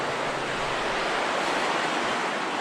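The Ausable River rushes below a steep drop-off near a campground in Wilmington Notch, a dense, steady roar of whitewater that fills the whole clip, loud and constant with a hint of wind.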